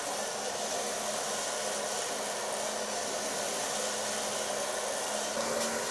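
Hair dryer blowing steadily for several seconds as a bob haircut is dried with a light brush, a constant airy whir at moderate, close level with no talking.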